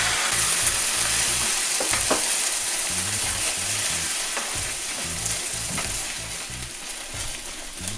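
Tomato sauce poured over browned rice for Mexican rice sizzles loudly and steadily in the pan, with repeated stirring scrapes and knocks throughout and no talking.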